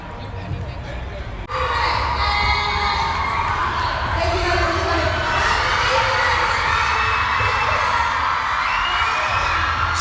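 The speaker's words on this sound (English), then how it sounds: "So much screaming and filming." A large crowd screams at a live appearance with people filming. A sudden burst of loud, sustained high-pitched shrieking and cheering fills the space and continues unbroken.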